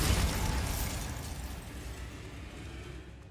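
A Bombarda spell goes off in a video game as a single loud, broad explosive blast that hits at once and fades into a sustained rumbling decay across the whole moment, with no talking over it.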